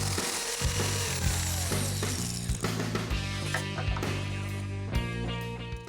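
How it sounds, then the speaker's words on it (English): Electric shears cutting an 8x8 sheet-metal panel with a 2-inch flap for a Cobra Foxbody, giving a steady close mechanical buzz with repeated clicks and cuts over a low motor drone, alone. "I'm going to use some electric shears to cut it out."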